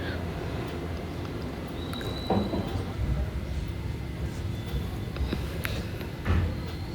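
Interior of a Vande Bharat Express train running from Secunderabad to Tirupati, a steady rumbling cabin hum with occasional soft rattles and knocks, constant and moderately loud.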